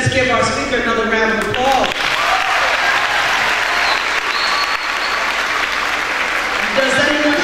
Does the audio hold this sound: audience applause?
yes